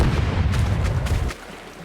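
Cannons booming from a pirate ship in the video game Rogue Waters, a dense run of heavy low blasts with sharp cracks, loud and continuous before dropping away near the end.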